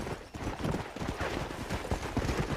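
Horse hooves clip-clop in a steady, overlapping rhythm, moderately loud and close, as riders arrive near a cliff in the Western video game Red Dead Redemption.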